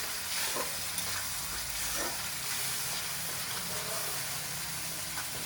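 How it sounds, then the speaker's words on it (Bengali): Spice paste for a Bengali sating fish tel jhal curry fries and is stirred in a pan, a steady close sizzle with scraping stir strokes throughout, no voices. "মশলাটা একটু ভালো করে কষছি।"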